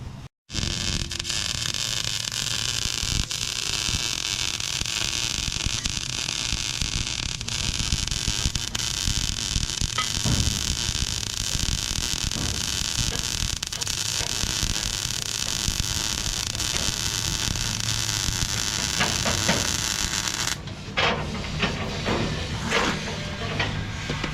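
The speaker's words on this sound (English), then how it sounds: "We're gonna weld them up." Steel shock mount brackets being welded on a mud truck build, a loud steady broadband crackle and hiss running almost unbroken for about twenty seconds, then breaking into short sputters near the end.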